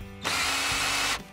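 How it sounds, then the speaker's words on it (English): A cordless drill fitted with an adapter winds a caravan jockey wheel, giving one steady, loud motor whir of about a second that starts and stops sharply, with no talk. "Get your cordless drill, and with the BOS adapter,"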